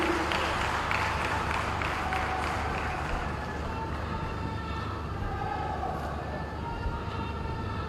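Crowd applause at a university foundation-stone ceremony in Goa for Chief Minister Pramod Sawant, a broad steady clapping wash that gradually thins.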